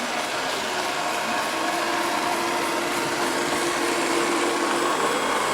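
Ecovacs Deebot M81Pro robot vacuum running over carpet to pick up hair, a steady whirring motor with a faint mechanical ratchet-like buzz, close and continuous throughout.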